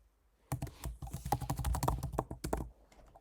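Someone types a password on a computer keyboard in a quick, steady run of close, crisp key clicks lasting about two seconds, preceded by a brief quiet moment.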